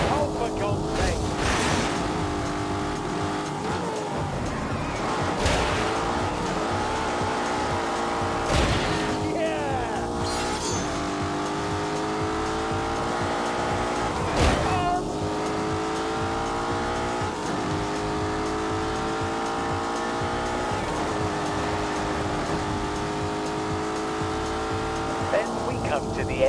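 A 4-litre car engine races in The Grand Tour video game, steady engine drone with repeated rising and falling rev sweeps and sharp transient bumps, a voice talking over it.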